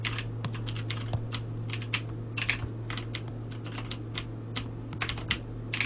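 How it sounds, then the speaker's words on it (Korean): Rapid, steady computer keyboard typing during a FIFA Online 3 gaming session, clicks close and continuous over a low constant hum, with no voices. "키보드 세 달 만에 한다"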